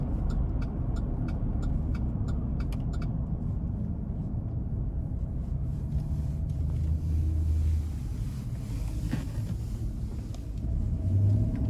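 A 2011 Chevrolet Silverado 1500 LT Extended Cab with 162K miles drives along with a steady, low engine rumble that swells as throttle is applied, and faint clicks are heard early on.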